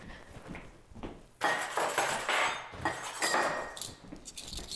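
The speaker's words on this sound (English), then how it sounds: "now I've got to go grab my tablespoon" A tablespoon grabbed from among kitchen utensils in a home kitchen, giving a run of close metallic clinks and rattles of cutlery and dishes, clustered in bursts with brief pauses, and no voices.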